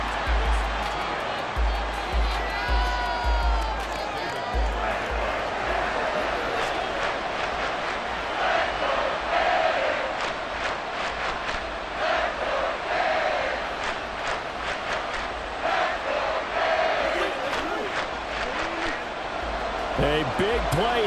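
A simulated stadium crowd in Madden NFL 24, during a Jacksonville Jaguars vs Miami Dolphins game, roars steadily and loudly throughout, with a commentator's voice talking over the noise.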